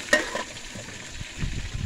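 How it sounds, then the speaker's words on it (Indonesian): Fresh fish frying in a pan, with a close, steady crackling sizzle and light stirring, a few sharper pops along the way, and no voices. "resipi kita hari ini ikan fresh goreng"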